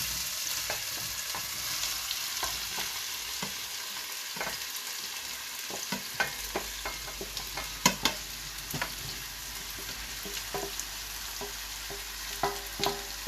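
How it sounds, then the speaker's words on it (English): Four chopped onions frying in hot oil for a lamb chop curry give a continuous close sizzle and crackle, with scattered spatula taps and pops throughout. "So that's 4 chopped onions got in there. Gonna let this cook now."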